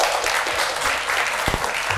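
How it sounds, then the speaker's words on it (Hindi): Dense, continuous audience applause fills an interview stage setting, loud and steady, with a few low thumps near the middle. "आप तालियां कंटिन्यू रखिएगा।"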